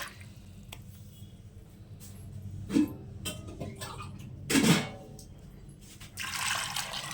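Water is poured into a pot of soaked cowpeas for cooking, heard as quiet splashes and trickles, with a couple of brief louder bursts and a steadier pour near the end.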